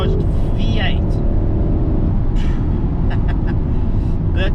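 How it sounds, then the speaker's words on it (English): Audi RS7 with a 4-litre twin-turbocharged V8 on the road, a steady low engine and road rumble filling the cabin, continuous and fairly loud, with talking over it. "So up front is a 4-litre twin turbocharged V8"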